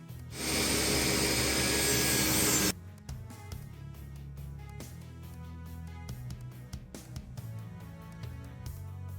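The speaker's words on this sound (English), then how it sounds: "this is cherry that I'm cutting here" Loud, harsh buzzing saw burst cutting thin strips of cherry wood, lasting about two seconds, then stops, leaving a quieter workshop stretch with scattered clicks, knocks and handling noises.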